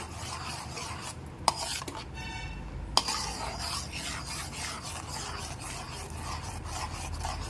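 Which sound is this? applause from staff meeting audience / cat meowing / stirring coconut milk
stirring coconut milk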